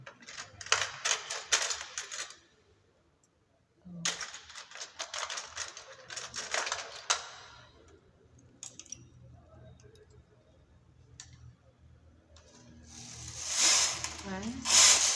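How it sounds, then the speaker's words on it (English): A knitting machine knits rows of a kids' poncho, its carriage making rough, clattering sweeps in separate bursts with pauses between them and louder passes near the end. "Now I'm going to knit 2 rows, and after every 2 rows I transfer a stitch."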